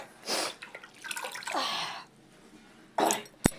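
Mint leaves rinsed by hand in water in a vessel, with swishing and splashing bursts, a pause, then a quick splash and a sharp knock against the vessel.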